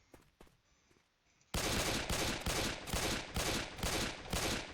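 Rapid Glock pistol fire in Left 4 Dead 2, modded with a bigger magazine: after a short quiet stretch, a loud, close burst of evenly spaced shots rattles off in quick succession, about a dozen cracks.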